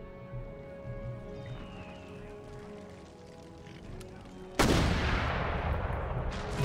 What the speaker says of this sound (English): Mortars are firing.